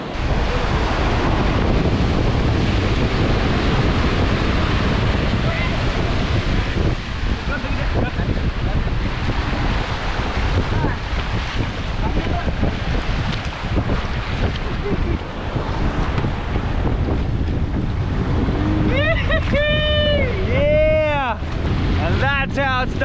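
Strong wind buffets and waves wash around a tiny fishing boat at sea, a constant loud roar of gusts and surf, with a voice cutting in near the end.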